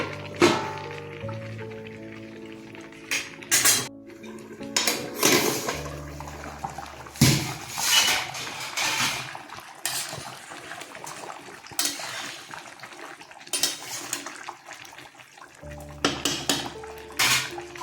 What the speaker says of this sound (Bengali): মাছগুলো ছেড়ে দিচ্ছে এবার একটু ঢেকে দিচ্ছে